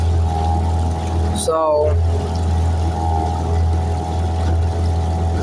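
A motorboat engine runs on a fishing trip, a steady low droning hum that holds throughout, with someone briefly speaking over it.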